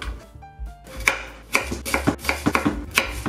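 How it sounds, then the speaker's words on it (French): A kitchen knife chops vegetables into small sections on a cutting board for brunoise dice, a run of about ten crisp, evenly spaced knife strikes, close and clear, no talking. "On coupe d'abord de petites sections comme ceci."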